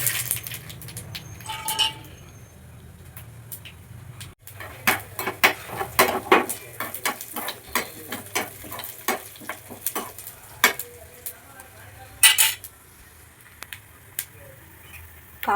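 Mustard seeds and tempering spices crackle in hot oil, with sharp pops bursting irregularly over a steady sizzle. A spatula stirs and scrapes close by, and the popping grows dense toward the middle.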